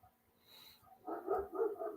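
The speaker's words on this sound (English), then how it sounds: "I can hear him barking." A dog barks several times in a quick, muffled cluster, as if from another room, after a quiet opening.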